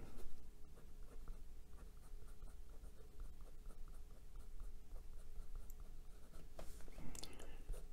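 Scratchy strokes and pauses from a medium-nib Sheaffer Taranis Ferrari Red fountain pen writing on Clairefontaine 90 gsm paper, faint and close, in an irregular rhythm of short runs of writing.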